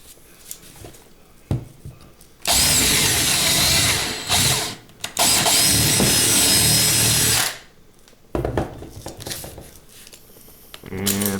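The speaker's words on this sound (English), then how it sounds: "Get a little more drilling on the back." A power drill bores into the back of a Matchbox Dodge Challenger die-cast car, whining loudly in two long bursts with a short break between them, framed by quieter handling clicks and tool noises.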